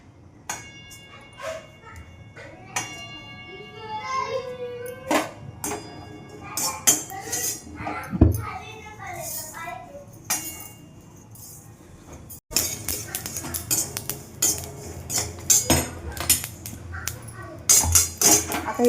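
Coconut and sesame seeds dry-roasted in a pan, heard as scattered clinks and scrapes of a utensil against metal, with a dog barking briefly in the background and a voice talking.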